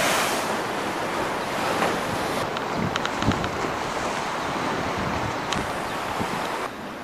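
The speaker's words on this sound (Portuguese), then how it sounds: "é interessante aqui este vento que tem aqui" Wind and sea waves at the seaside: a continuous roar of surf with strong gusts buffeting the microphone, loud and steady throughout with no voices.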